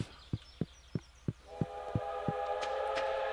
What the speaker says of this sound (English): A train is passing through Stardew Valley.